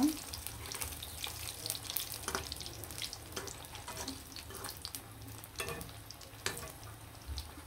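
Potato chops fry in hot oil with a continuous soft sizzle and bubbling, punctuated by faint clicks and scrapes, fairly quiet and close.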